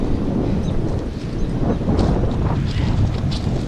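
Strong wind blasts steadily across the microphone, a loud continuous roaring rumble with gusty swells and no speech.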